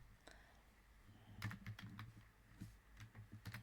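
Typing on a computer keyboard while working in Canva: quick clusters of crisp key clacks, fairly close and quiet, with a faint low murmur in the background.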